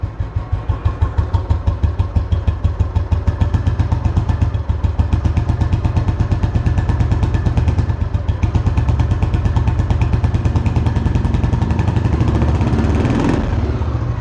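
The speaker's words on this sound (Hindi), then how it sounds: "गाड़ी हो चुकी है स्टार्ट।" A single-cylinder Royal Enfield Bullet 350 engine idles steadily, a loud, even thumping beat with mechanical clatter that continues throughout.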